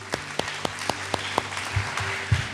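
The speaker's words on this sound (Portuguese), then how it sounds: "vamos aplaudir a vida deles." A church congregation applauding, with sparse, distinct claps spaced out in a loose rhythm over a low background murmur, fairly faint and brief.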